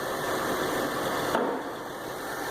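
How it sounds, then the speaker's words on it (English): A 2005 Cadillac STS engine idling nearby, a steady, even drone with a faint mechanical hum that holds constant throughout, with no talking. "The car is running and we're trying to add a little more fluid."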